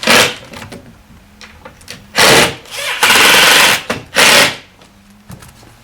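Set screws being driven into the toe kick of a Savannah Sienna Glaze bathroom vanity during assembly, heard as three loud bursts of powered driving separated by quieter pauses with light clicks and handling.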